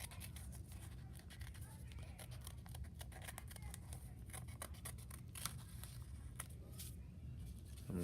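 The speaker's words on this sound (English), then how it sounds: "So I'm going to cut this heart out." Scissors cut a heart shape out of a folded paper snowflake, making quick, soft, repeated snips that run steadily throughout at a faint, close level.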